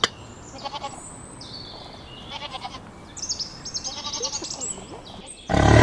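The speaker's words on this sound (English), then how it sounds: "Goat." A goat bleats in several short wavering calls spread across the clip, each fairly faint against a noisy background, ending in a sudden loud burst of noise.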